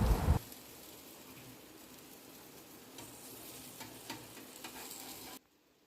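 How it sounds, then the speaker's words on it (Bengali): Egg and paratha fry together in a pan, giving a steady, close sizzle after a brief louder clatter at the start, then cutting off abruptly near the end. "এবার ডিমটা অর্ধেকটা ভাজা হলে এর ওপর পরোটা দিয়ে চেপে চেপে আবার ভালো করে ভেজে নেব।"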